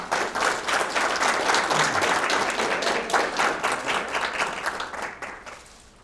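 An audience applauds a student honored as Outstanding Student of the Month at a school presentation, steady dense clapping that fills the room and tapers off near the end.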